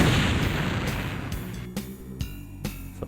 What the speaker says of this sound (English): It's exploding.